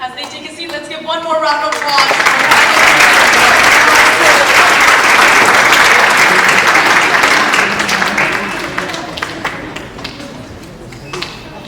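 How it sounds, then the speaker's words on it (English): A full audience at a speech competition final breaks into loud, sustained applause that swells quickly, holds as a dense roar of clapping for several seconds, then tapers off into scattered claps, with a voice just before it begins. "let's give one more round of applause"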